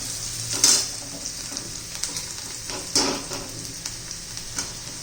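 Onions with salt stirred in a frying pan for a fenugreek leaf (methi) vegetable dish: steady sizzling with a few louder scraping stirs near the start and middle, close and alone.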